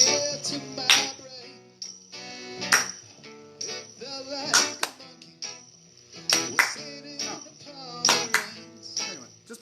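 Sharp, close hand claps sounded over music during a recording session, tried out as percussion, landing in an irregular pattern of single and paired hits between the musical notes.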